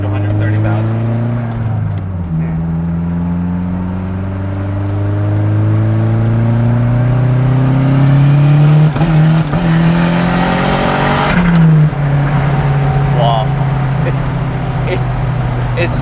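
Engine of a slammed, turbocharged Alfa Romeo Spider building revs under load, a loud, steady rising drone with a brief drop near the middle and another later, heard from inside as occupants talk.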